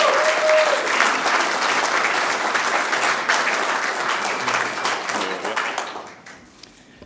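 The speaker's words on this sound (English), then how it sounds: "a big round of applause for these two" Sustained audience applause at an awards ceremony, loud and dense at first, then thinning and fading out near the end.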